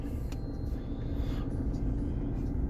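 Low steady rumble of a 2016 Renault Megane IV 1.5 dCi diesel engine idling just after starting, constant and close, with no speech.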